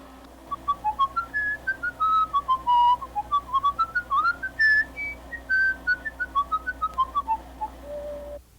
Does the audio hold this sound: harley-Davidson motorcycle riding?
no